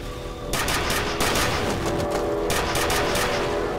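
Rapid bursts of gunfire from a heavy armor-piercing gun in F.E.A.R., loud and close, rattling in quick repeated volleys with brief pauses between strings of shots.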